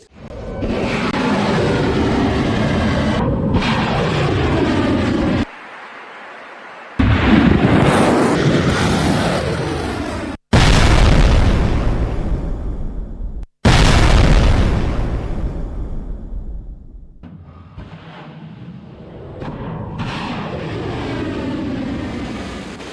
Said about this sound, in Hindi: तो दुबई और अबुधाबी में तेज धमाके हुए